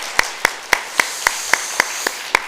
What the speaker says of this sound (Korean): 뜨겁게 한번 박수했으면 좋겠습니다.